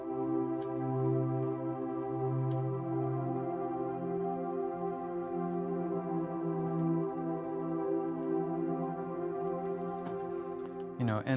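A keyboard pad sustains smooth, lush chords through a 1 to 4 progression, holding steady and close before a brief change near the end.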